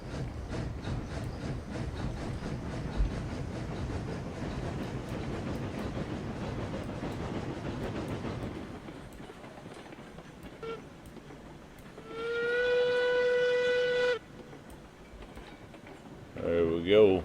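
A small train in the RailRoads Online video game rumbles and clacks along for several seconds, then a loud steady whistle blows, with another short toot at the end.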